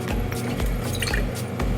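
Fresh lime juice poured into an apple and spiced pear mule cocktail, a short close liquid trickle with small drips and splashes heard alone.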